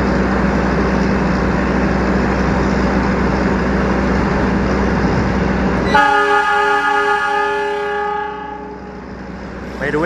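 A passenger train pulls into a platform track at Jakarta Gambir station, a loud steady rumble of rolling stock that gives way to a long, tonal horn or squealing brake note before fading.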